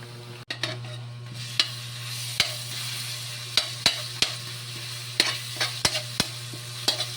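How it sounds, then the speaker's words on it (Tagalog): Garlic sautéing in a pan, a steady low sizzle with sharp intermittent clicks and taps of a utensil against the pan, close up, with a constant hum beneath. "Nagigisa na tayo."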